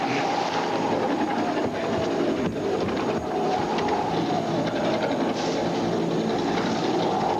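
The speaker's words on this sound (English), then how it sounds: "That is a helicopter." A loud, steady mechanical roar with a dense rumble and rhythmic churning, continuous for several seconds like a nearby helicopter overhead.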